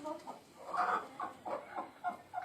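Desi hens cluck in a series of short, close, moderately loud calls with an uneven rhythm, heard on a small backyard farm with no other prominent sounds.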